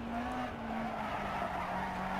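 Rally car in Dirt Rally on a 1970s-era German stage, its engine droning steadily while the tires scrub and skid continuously through a spin.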